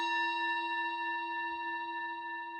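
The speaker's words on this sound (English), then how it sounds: "we hit this bowl and it sounds like this" Tibetan singing bowl struck with a wooden mallet, ringing on as a long, steady, shimmering tone with stacked clear overtones, close and fairly quiet, slowly fading, with no talking.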